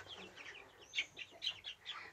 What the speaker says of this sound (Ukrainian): Тут є кохінхіни